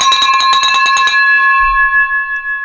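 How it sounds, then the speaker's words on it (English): A loud metal bell is rung rapidly and repeatedly, the clangs then stopping and leaving a long ringing tone that slowly fades. "Man, the Navy guys know how to ring a bell"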